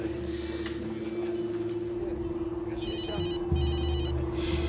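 Mobile phone ringing indoors: a faint electronic ringtone with repeated trilling bursts over a steady hum and background rumble, no talk.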